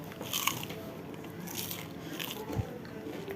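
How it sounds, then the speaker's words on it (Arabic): Crisp crunching bites and chewing of crunchy qatayef close to the ear, a few crackly crunches over a quiet, faintly noisy background. "عايزه اسمعكم صوت بقى القرمشه"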